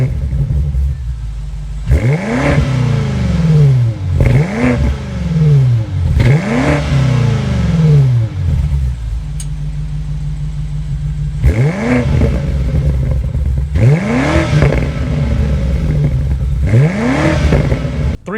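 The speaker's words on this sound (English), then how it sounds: "start up this thing so you can hear that exhaust note" A 2026 BMW M5 Touring, a 717 hp wagon, revs repeatedly from idle: a series of sharp, loud blips that rise and fall in quick succession, a pause at steady idle, then more blips, all heard up close.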